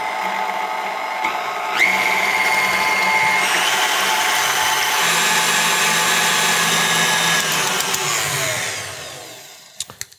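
Steady mechanical whirring of an electric whisk beating ginger pumpkin mousse toward soft peaks, loud and continuous for most of the stretch before slowing and fading near the end.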